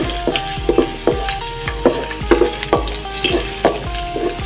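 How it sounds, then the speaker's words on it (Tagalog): Garlic sautéing in hot cooking oil, a close, loud crackling sizzle broken by repeated sharp clinks of a utensil stirring against the pan in an uneven rhythm, with no talk. "Ilagay na natin tong ating bawang. Ayan. So, igisa lang po natin ng konti."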